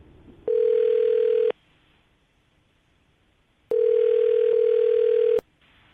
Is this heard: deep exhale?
no